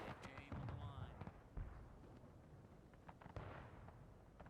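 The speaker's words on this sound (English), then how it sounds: "And pretty good volley. I saw a lot of bodies fall." Musket volley in the Civil War video game War of Rights during a 250-player battle at Piper Farm, heard as a cluster of loud cracking shots with scattered distant pops and rumble.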